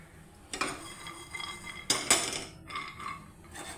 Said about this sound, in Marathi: तर आपण बदाम भाजून घेऊया